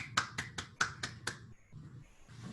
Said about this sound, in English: So I thought I'd add in some applause.